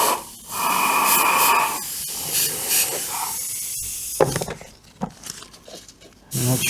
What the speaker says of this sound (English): the airbrush sounds a lot healthier than the previous mix